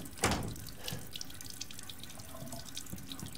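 In the Resident Evil 8 video game, water runs from a tap, starting with a sudden gush and then flowing as a steady hiss with faint clanks underneath. No voices are heard.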